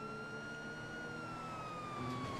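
Police car siren in GTA V, a steady wailing tone that slowly glides in pitch, heard alone at moderate distance with faint background noise.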